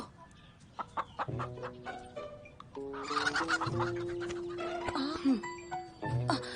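A rooster clucks in a Hindi drama scene set around a royal household, its calls rising over a bed of music with tonal notes throughout.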